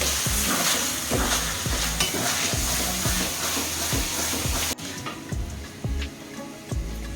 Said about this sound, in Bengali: মশলাটা কিন্তু ভালো করে কষায় দিচ্ছি